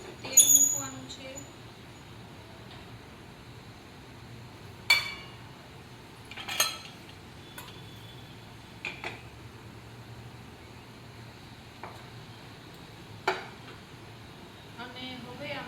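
Scattered, fairly faint metallic clinks of a pan and utensils as oil goes in for a spicy chana sabji, a few sharp taps spread apart over a low, steady kitchen background.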